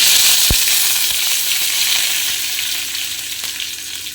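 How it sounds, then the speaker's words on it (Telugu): Urad dal and chana dal fry in a small amount of hot oil for coconut chutney, a loud, continuous close sizzle with one brief knock near the start, and no voices. "కొంచెం గోల్డెన్ కలర్ వచ్చేంత వరకు ఉద్దిపప్పు, శనగపప్పు వేయించేసుకొని"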